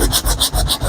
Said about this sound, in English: We're still on the 80 grit. We haven't stepped down from it. You know, now we're just going to sand this again.